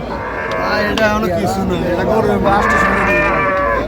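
Cattle at a livestock market where bulls are sold for Qurbani sacrifice, with moos standing out over steady crowd noise and nearby talking.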